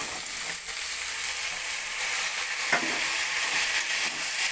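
Pumpkin, potato and yardlong beans frying together in a pan, a steady close sizzle with a brief stirring scrape partway through.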